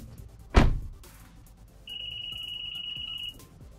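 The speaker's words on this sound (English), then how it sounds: "you walk away from your vehicle and you don't have your keys in the pocket, it'll alarm you" A Honda Ridgeline pickup's walk-away door lock alarm: a steady electronic alarm tone sounds for about a second and a half after a door thud, with a faint chime in the background.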